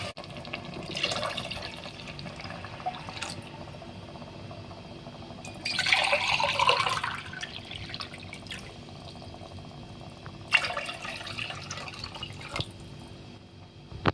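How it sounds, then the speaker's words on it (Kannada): Water poured into a pot of cooked-down tomato bath masala in oil, a few distinct splashing bursts of liquid separated by quieter gaps with light background hum. "ಈಗ ನಾನು ಇದಕ್ಕೆ 3 ಲೋಟದಷ್ಟು ನೀರು ಸೇರಿಸ್ತಾ ಇದ್ದೀನಿ"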